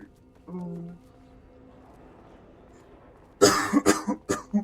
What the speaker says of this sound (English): So sorry, I'm just gonna be coughing. all of the time.